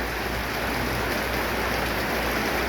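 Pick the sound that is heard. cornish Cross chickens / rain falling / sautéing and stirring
rain falling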